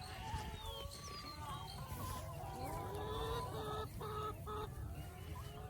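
Laying hens on regenerative pasture cluck and chatter steadily at close range, with soft scratching and rustling beneath a dense layer of overlapping bird calls, with no talking.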